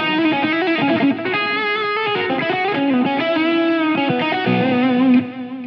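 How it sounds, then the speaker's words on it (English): Strandberg Boden NX6 electric guitar in Autumn Burst with Sur pickups, run through a Fractal unit into a speaker cab, playing fluid distorted lead lines with chorus-like shimmer, sustained bent notes and quick runs, loud and close with no talking. "So this is the Boden NX6 in Autumn Burst with the Sur pickups,"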